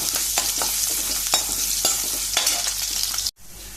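Garlic frying in hot oil with asafoetida and mustard seeds for a jackfruit bhaji gives a close, bright, continuous sizzle, with soft stirring scrapes and a few pops, briefly interrupted by a cut near the end.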